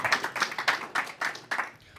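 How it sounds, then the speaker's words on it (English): A small audience claps for the panelists at a tech talk event, about seven uneven bursts of hand claps close by, fading out at the end. "Let's get a round of applause for our panelists."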